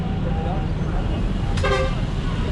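A vehicle horn gives a short sharp toot in chaotic Lahore traffic near a bus garage with tuk-tuks, over a constant rumble of engines and road noise, with voices talking nearby.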